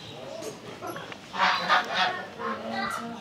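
Geese honk in a noisy cluster, moderately close, in an Uzbek yard with roaming chickens, over a busy background with scattered voices.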